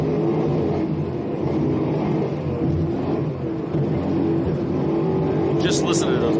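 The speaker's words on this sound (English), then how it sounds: "Just listen to those boats, kid." Offshore racing powerboats roar past off Cocoa Beach during an IHRA offshore powerboat series race, a loud, continuous engine drone close by with a commentator talking over it.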